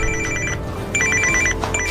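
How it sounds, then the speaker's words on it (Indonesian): A mobile phone rings in bursts of a bright electronic ringtone, two clear pulses of repeated tones, close and fairly loud with no talking. "ujuk-ujuk HP Melki yang ada di saku Iwan pun berbunyi"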